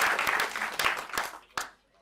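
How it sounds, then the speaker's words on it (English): A lecture audience applauds briefly, a short burst of clapping that fades out after a couple of seconds. "So maybe a big round of applause for promoting this field"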